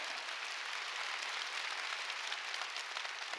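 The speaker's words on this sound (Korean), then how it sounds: "박수 치려면 세게 쳐요." Church congregation clapping during a Sunday worship service, a dense, even roar of many hands heard from a distance, steady and fairly faint throughout.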